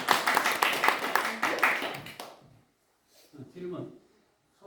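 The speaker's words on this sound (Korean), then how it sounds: "박수 한번 쳐주세요." Audience at a Buddhist dharma talk clapping together, a burst of close, loud applause that fades after about two seconds, followed by someone talking.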